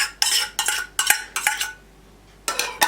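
A metal spoon clinks against a pan while tomato paste goes into a tray of mullet with tomatoes and onions, several sharp scraping taps in quick bursts, a short pause, then more taps, close and clear.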